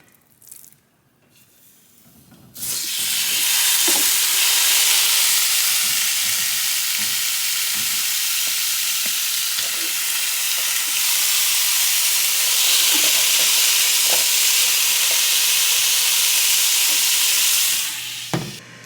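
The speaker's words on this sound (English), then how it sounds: "I am really impressed with how the carne asada is cooking up in that Ninja Foodie grill" Carne asada sizzles on a Ninja Foodi indoor grill, a loud, steady frying hiss that starts abruptly after a quiet moment and holds for many seconds, with small pops and scrapes before cutting off near the end.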